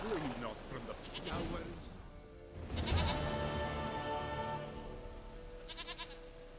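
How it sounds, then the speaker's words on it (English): A goat bleats several times, wavering and nasal, mixed with a person talking and some background sounds from The Witcher 3. "Goat of mine, dearest,"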